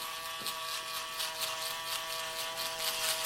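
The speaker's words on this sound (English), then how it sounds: "So I'm going to use this foil shaver now, the UV foil shaver. I'm going to get under all the stubble." A foil electric shaver buzzes steadily over beard stubble during a barbershop beard fade and shape-up. The humming drone is close and continuous, with slight wavering as it moves across the face.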